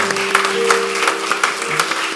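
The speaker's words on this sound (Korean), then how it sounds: "박수로 격려합니다" A church congregation applauds newly appointed deaconesses during an ordination service, brief steady clapping with a low hum underneath.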